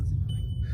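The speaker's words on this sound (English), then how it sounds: "sorry about the beeping" Faint, thin high-pitched electronic beeps sound over a steady low rumble of background noise.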